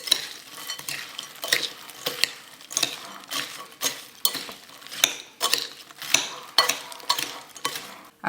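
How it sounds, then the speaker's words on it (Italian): Stirring a tart filling for a Christmas strudel crostata, a spoon scraping and clinking around a bowl in quick irregular strokes, close and alone. "E mescolo."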